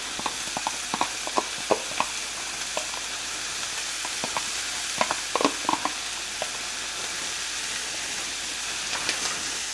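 Onions, cotija cheese and sauce sizzle steadily in a hot pan for Mexican street corn, with scattered scraping clicks of stirring over a constant hiss.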